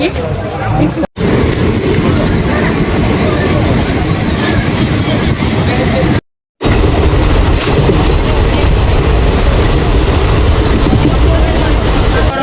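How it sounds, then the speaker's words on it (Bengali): A train rumbles steadily into a busy station platform, from Malda toward Mayapur, with clattering rail noise and crowd chatter, loud and continuous apart from two brief dropouts. "এখন প্ল্যাটফর্মে দাঁড়িয়ে আছি আমরা। ট্রেন ঢুকবে"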